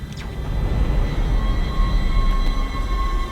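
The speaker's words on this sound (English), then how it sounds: "Back on a train, I guess." Train ride in the video game Dead Space, a steady low rumble and rolling hum with faint tonal whine, continuous and moderately loud with no talk.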